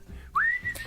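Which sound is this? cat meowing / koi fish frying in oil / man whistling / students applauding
man whistling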